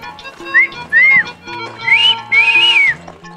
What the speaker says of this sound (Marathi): शिट्टी वाजवून थांबवतो.